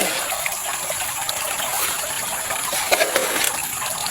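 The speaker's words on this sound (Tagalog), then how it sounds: "Para natin bubuhan ng tubig." Water is poured or sluiced during small-scale gold panning, giving a continuous hissing trickle and splash at moderate level with no talk.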